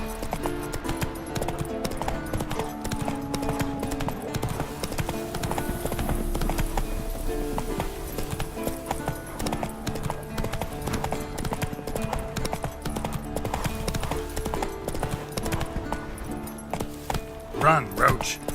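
Galloping horse hooves in The Witcher 3 video game, a steady rapid clip-clop running throughout alongside in-game music, with a few whinnies and a voice speaking over it.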